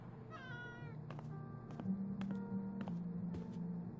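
A cat meows repeatedly in the video game Life is Strange: one drawn-out meow followed by several short clipped mews at roughly even intervals, quiet over a steady low ambient hum, with no talking.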